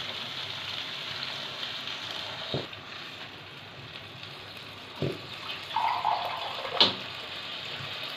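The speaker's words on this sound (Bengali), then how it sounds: "জল দিলাম।" Water is poured into a pan of simmering okra, potato and prawn curry, making a soft, steady hiss and splash with a few brief clunks and a short bubbling burst near the end.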